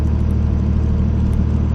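Third-generation 2003-2009 Ram heavy duty diesel truck on a test drive, a steady loud engine drone with a low rumble, continuous and close, with no talk.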